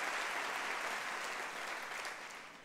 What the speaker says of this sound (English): How about a big round of applause for Tony?